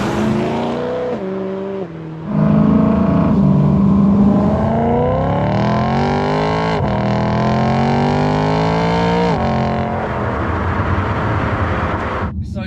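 Heard from inside the cabin, a BMW E92 M3 with a custom exhaust revs hard through several gear changes, its pitch climbing and dropping with each shift, loud and throaty.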